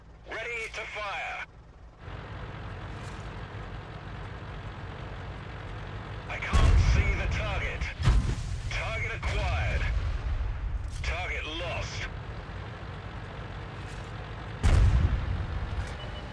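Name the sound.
tank gun firing in a video game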